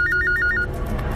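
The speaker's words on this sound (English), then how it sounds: "I was home alone, and the phone rang." A telephone rings indoors in a quiet home, its repeated electronic trill pulsing several times in quick succession before cutting off, fairly loud and alone.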